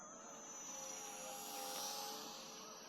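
A Volantex F4U Corsair brushless RC airplane flies at about half throttle, its motor giving a steady high electric whine with a propeller buzz that swells slightly and then eases, heard alone at moderate distance.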